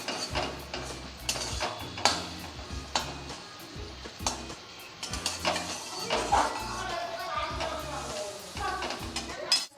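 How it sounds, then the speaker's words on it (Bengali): Chopped onions fry and sizzle in a pan in a village-style Bengali kitchen, with a steady sizzle broken by repeated scraping and clinking of a utensil stirring against the metal. "দিয়ে দিচ্ছি পেঁয়াজ কুচি। পেঁয়াজটা হালকা করে ভেজে নেব একটু।"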